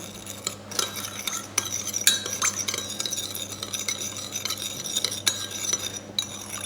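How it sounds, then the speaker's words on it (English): A spoon stirs salt and sugar into a sauce for summer rolls, clinking and scraping steadily against a bowl over a constant low hum. "And then you stir until all mix well and melt."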